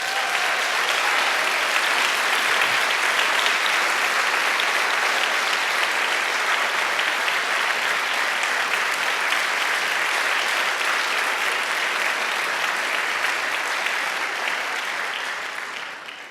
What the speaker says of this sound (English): please give an amazing round of applause for Rona and Jeffrey Abramson.